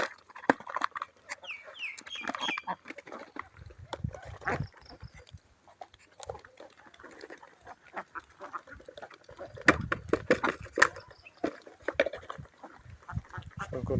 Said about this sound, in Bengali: আমার হাঁসগুলো অনেক অসুস্থ হয়ে পড়ছে।